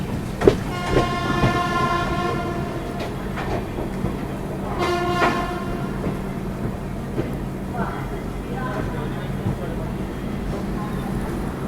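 The 12441 Bilaspur–New Delhi Rajdhani Express running, with a steady rolling rumble, rhythmic wheel clatter and short horn blasts, and a voice talking over the train noise.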